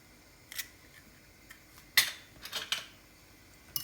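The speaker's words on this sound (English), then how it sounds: "So in a dish, in a bowl, we're going to crack an egg in there." An egg is cracked into a bowl while fried chicken batter is prepared: a few sharp, quiet taps and clicks against the bowl with small splashy ticks, close up in a quiet kitchen.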